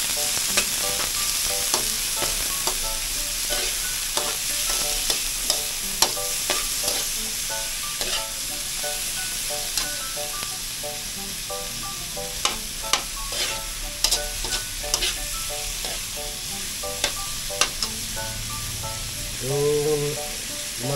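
Sliced onion and tomato sizzle steadily in a hot pan for ginataang sugpo at alimasag, a shrimp and crab coconut-milk dish. Sharp scraping clicks from the stirring utensil break through the even crackle. No voices.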